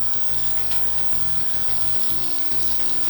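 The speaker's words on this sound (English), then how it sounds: "once you hear that rice kind of sizzle on the bottom, we're going to lower the temperature." Saffron rice sizzles on the bottom of a pot while Persian tahdig forms, a soft, steady, close crackle and hiss with no voices.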